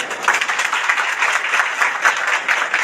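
Loud, dense audience applause, many hands clapping steadily and continuously without pause.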